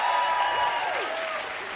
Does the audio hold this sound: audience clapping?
yes